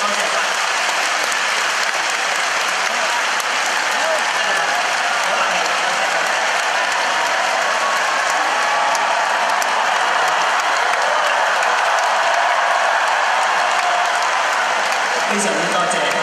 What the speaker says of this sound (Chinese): 所以我哋亦都借大家嘅掌声